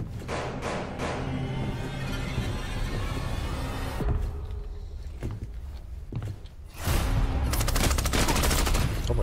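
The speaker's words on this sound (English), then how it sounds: "God, those shots." Bursts of gunfire in the shooter Arena Breakout Infinite, with rapid automatic volleys and scattered single shots over several seconds, distant-to-mid range, and a louder flurry near the end.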